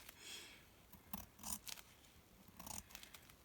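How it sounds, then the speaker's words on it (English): Scissors snip through folded paper napkins: a handful of quiet, crisp cuts spaced irregularly over a few seconds, close by, with no talking. "I find that it's a little easier to cut them apart if I leave them folded in half first"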